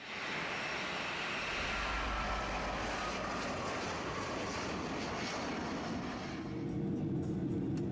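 Steady, broad roar of a passenger airliner in flight, with engine and rushing air noise holding constant for about eight seconds and no voices.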